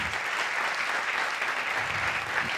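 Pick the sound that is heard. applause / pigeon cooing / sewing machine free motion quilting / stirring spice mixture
applause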